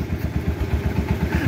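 Garden tractor, a 149 model, being tested and tuned for plow day, its small engine running close and loud with a rapid, even thumping putter.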